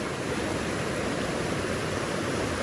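Creek water rushing steadily over rocks at a trail crossing in the Angeles Forest, a dense, even broadband wash that stays close and loud throughout with no voices.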